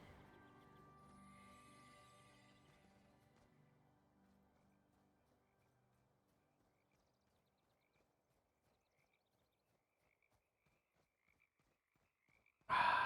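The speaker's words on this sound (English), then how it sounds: "You hear those frog noises? They're so good." Frogs croak in Guild Wars, a series of faint, brief calls scattered over a quiet game ambience that fades out before a sudden loud burst at the very end.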